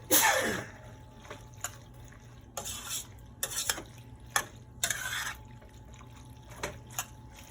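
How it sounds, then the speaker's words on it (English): A single sharp sneeze bursts out in a kitchen while mac and cheese is being cooked, followed by quieter clinks and stirring noises from a pot. "Oh, I got sneezes and people talking in my video."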